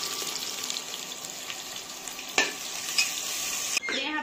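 Onions frying and being stirred in hot oil in a cooker for veg biryani, a steady close sizzle with occasional stirring scrapes and a sharp knock near the end.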